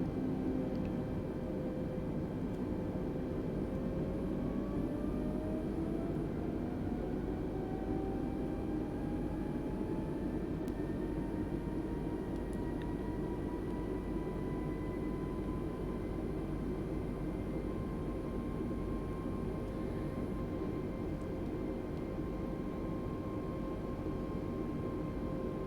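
An Airbus A320neo on final approach in Microsoft Flight Simulator 2020, with flaps set and gear down, gives a steady, loud engine drone and airflow roar, with a whining tone that slowly rises and settles throughout.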